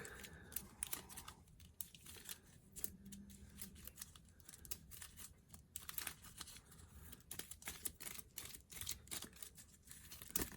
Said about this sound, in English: so we can shuffle our deck